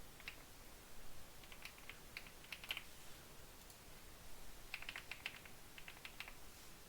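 Fingers type on a computer keyboard to enter an email address, quiet irregular bursts of key clicks with short pauses between them.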